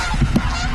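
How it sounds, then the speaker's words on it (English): Geese honk overhead as a flock passes directly above, giving two or three short, nasal calls in quick succession over a steady background hiss. "a flock of geese appear directly overhead"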